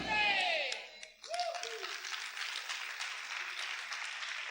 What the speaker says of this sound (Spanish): Si ese aplauso es para el Señor, déselo fuerte en esta hora.